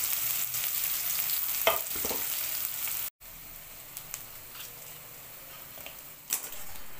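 Onions and green chillies fry in tempering oil with seasoning seeds, giving a steady close sizzle with a few scraping stirs; it cuts out briefly midway, then the frying carries on.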